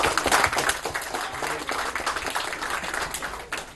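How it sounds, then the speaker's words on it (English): Audience clapping at a book launch in Kolkata, scattered and uneven hand claps from a modest crowd that stays fairly close and trails off toward the end. "so please clap for yourself."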